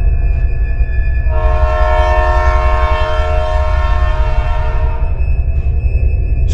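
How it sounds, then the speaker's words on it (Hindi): A cartoon train arrives, sounding a steady, loud horn for about four seconds over a continuous low rail rumble, with no voices. "तभी वहाँ पर ट्रेन आ जाती है।"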